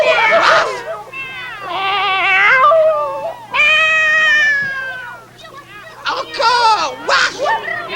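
Children's voices imitate dogs barking with loud, bouncy yips, while a few mix in meowing cat sounds; an adult voice speaks between the bursts of group imitation.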